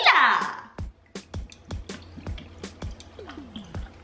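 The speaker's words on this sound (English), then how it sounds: "add some tequila" Tequila is poured into a cocktail shaker full of ice, a brief splashy gush followed by a steady series of sharp drips and small clinks, close and fairly loud.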